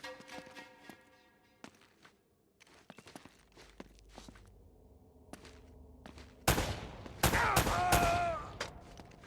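Scattered gunfire and footsteps in the video game Uncharted: Drake's Fortune aboard a ship, sharp isolated shots early on, then a louder burst of firing with a strained cry near the end.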